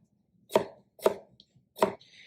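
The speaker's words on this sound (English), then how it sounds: "First step, I'm gonna chop the pickles." A knife chops through crunchy dill pickles on a cutting board in four sharp, crisp strikes spaced about half a second apart, close and clear with no talking.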